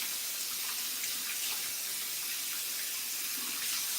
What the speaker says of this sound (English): So wash your hands first.